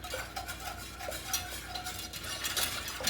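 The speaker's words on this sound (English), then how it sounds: "And I'm gonna whisk this" A whisk stirs flour into chicken pot pie filling in a pot on the stove, making a steady, close scraping and swishing that continues throughout with faint sizzling beneath and no talking.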